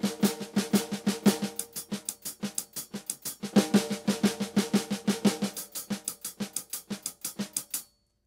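Shuffle pattern played on a snare drum and then moved to the hi-hat, steady swung strokes throughout, close and unaccompanied, ending abruptly.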